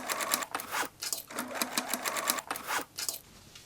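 A sewing machine stitches fabric in short bursts, its rapid mechanical chatter starting and stopping several times close up, with brief quiet gaps between runs while sewing a romper made from old pants.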